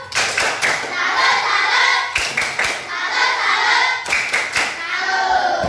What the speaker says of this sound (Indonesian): tepuk salut dulu buat kelompok 4